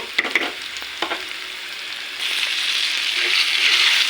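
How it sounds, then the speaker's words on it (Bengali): Taro leaves tossed into a pan of fried onions: a few clanks and stirring scrapes at first, then a rising, steady loud sizzle as the greens hit the hot oil. "এখন এটার মধ্যে হচ্ছে শাকগুলো ঢেলে দিব"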